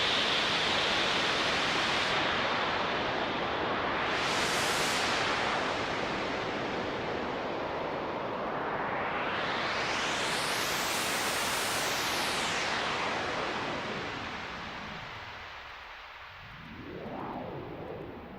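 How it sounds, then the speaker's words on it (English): High-pass filtered white noise from a Eurorack modular synth hisses continuously while its tone sweeps up and down, rising to a bright peak and later dipping low before rising again. "Actually, let's do high-pass white noise."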